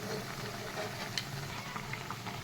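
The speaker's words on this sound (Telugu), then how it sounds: "మనకు రెండు పక్కల ఫ్రై అయిపోయినాయండి." Garelu, lentil fritters, fry in hot oil with a steady, soft sizzle and faint bubbling crackle that runs unbroken throughout.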